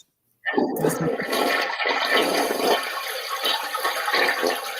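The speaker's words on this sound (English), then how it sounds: "It's about me bringing back the old school toilet flush." An old-fashioned toilet flushes loudly after a brief silence, water rushing and gurgling steadily for several seconds, close and alone.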